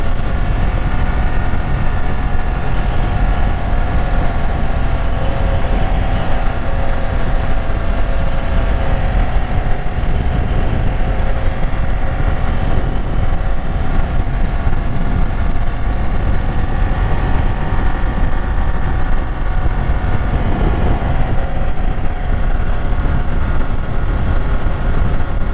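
A 2023 BMW F750GS motorcycle rides steadily through curves, its engine a constant loud drone mixed with heavy wind rush, with no voices present.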